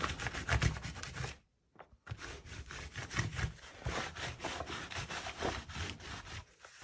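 Wax is rubbed by hand onto art journal pages, giving a soft, rhythmic scrubbing rasp of repeated strokes, close and quiet, broken by a brief pause near the middle.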